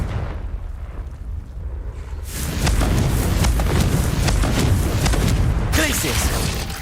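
A Confringo fire spell explodes in Hogwarts Legacy, a loud booming burst that swells into sustained rumbling blasts after a quieter lead-in, with voices mixed in.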